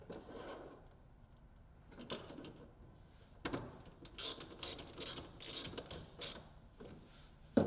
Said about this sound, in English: slide the tool holder into the rails and tighten